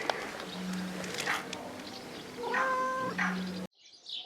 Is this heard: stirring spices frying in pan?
no